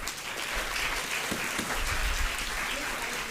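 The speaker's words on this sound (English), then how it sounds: "Another huge round of applause for our speakers." At a Live Voices student event at the Gera School, an audience gives the speakers a big round of applause, a dense wash of clapping with some crowd murmur underneath.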